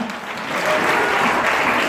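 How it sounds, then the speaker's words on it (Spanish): A church congregation breaks into steady applause for the Lord during a Spanish-language service, a dense, even wash of many hands clapping at close range with no speech over it. "Y un aplauso al Señor esta mañana."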